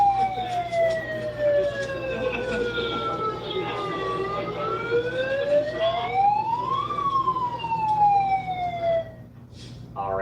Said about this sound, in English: You can hear the sounds of sirens